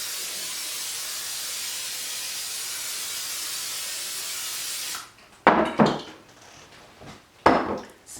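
Cooking spray hisses onto a 9 by 13 baking pan in one long, steady, close spray lasting about five seconds, then the can and pan knock and clatter briefly a few times.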